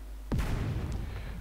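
Sherman tank defensive fire in a war strategy video game: a single sharp gunshot crack with a deep boom, followed by a rumbling, decaying tail that lingers to the end.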